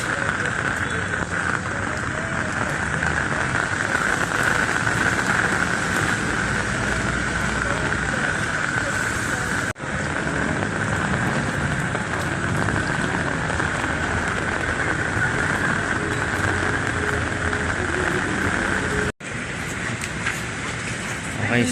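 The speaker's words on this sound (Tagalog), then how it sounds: "Okay, malakas pa rin yung ulan." Heavy rain falls steadily in Baguio City, a constant loud hiss of water on surfaces with city background, uninterrupted across the whole stretch.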